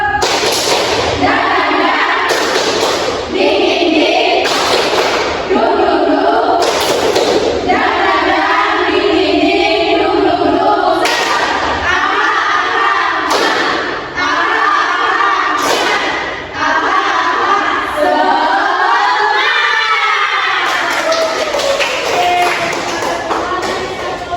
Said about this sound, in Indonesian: kita akan melakukan tepuk semangat dan hidup